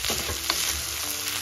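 Fried rice sizzles loudly in a pan as the water cooks off, a continuous close frying hiss with small crackles, no voices.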